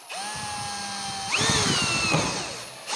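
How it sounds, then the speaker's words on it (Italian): A power drill drives 3.5x25 mm screws to fix a piece of a jig for flush and thickness planing with a router. The motor whines steadily, then its pitch rises and strains as a screw bites in, close and loud. "lo andiamo ad avvitare con due viti"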